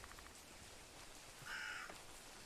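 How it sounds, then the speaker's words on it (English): A crow-like bird caws in the Bigfoot video game, one short harsh call rising clearly over a steady rain-like ambient hiss, with quieter background noise before and after. "Some birds flying around."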